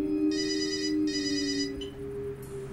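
A telephone rings indoors in two electronic warbling bursts, moderately near, with a steady low hum underneath and no voices.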